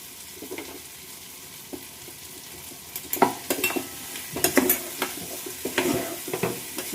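Potato pieces fry with turmeric in a pan: a low, quiet sizzle at first, then louder scraping and stirring strokes that come in bursts over the crackling oil.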